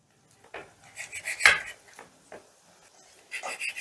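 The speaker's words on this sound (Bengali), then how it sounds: "এবার পিসটা আমি বেশ ভালো করে টুকরো করে নিচ্ছি।" A knife cuts boneless chicken pieces into thin strips, giving a few sharp clicks and scrapes against the board with soft rustles between them, close and otherwise quiet.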